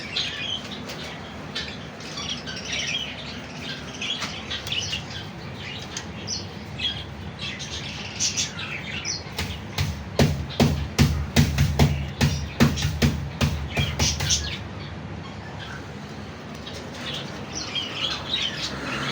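Parrots chirp and tweet throughout, and midway a burst of rapid wing flapping rattles loudly for several seconds before the chirping settles again.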